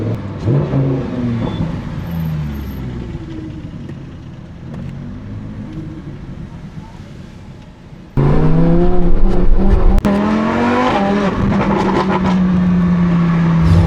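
A Lamborghini Huracán Performante supercar engine drones steadily while driving, then turns abruptly louder and harsher, with strong rising revs that hold as a loud, close roar to the end.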